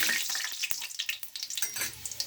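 Dried red chillies and cumin fry in hot oil, a close, bright crackling sizzle with quick popping spatters, loud and steady for a couple of seconds.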